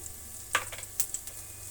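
Coconut rice seasoning with dried red chillies frying in a pan, a faint continuous sizzle broken by a few short crackles and pops; no talking.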